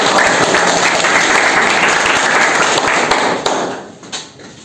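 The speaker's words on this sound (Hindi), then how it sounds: "सोनू पवार जी के लिए जोरदार ताली" Loud, dense clapping from a crowd at an event honouring a defence academy's coaching, sustained at full strength before tapering off and thinning to a few scattered claps near the end.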